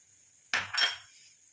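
A vessel is set into a pan of water for double boiling, making two quick metallic clinks close together. Each knock rings briefly, then the sound goes quiet.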